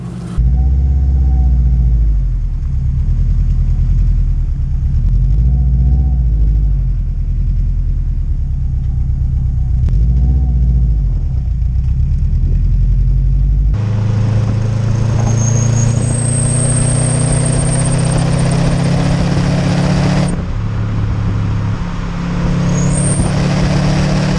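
A Subaru Impreza WRX with a software tune being driven, heard from inside the car: a steady engine drone with rising and falling revs, then a louder, harsher stretch of engine and road noise with a high whine partway through.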